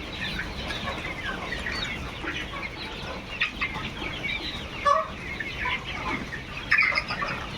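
Layer hens on a poultry farm cluck and chatter in a busy flock, with scattered louder squawks over a constant low background din, and no talk.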